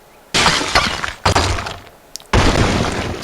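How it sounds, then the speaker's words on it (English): Crashing and shattering bursts from a castle collapsing in a student-made video game demo, three loud breaking-debris sections separated by brief lulls, with no talking. "the entire castle sort of slowly crumbled apart because we broke this sort of switch."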